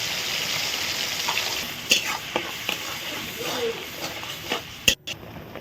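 Spices and a paste of ginger, garlic, tomato, onion and green chili fry in hot oil for a country chicken curry, giving a steady close sizzle with sharp scrapes and knocks from stirring, while a voice speaks faintly.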